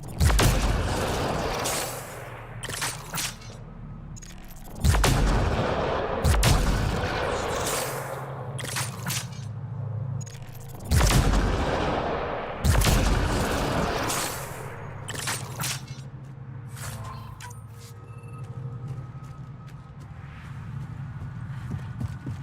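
A sniper rifle firing in Mass Effect: Andromeda, with several loud booming shots spaced a few seconds apart, each followed by a decaying rumble, plus clattering steps and other game sounds in between.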